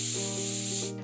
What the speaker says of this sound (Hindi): अब 3 विसल के बाद कुकर में से स्टीम निकाल देंगे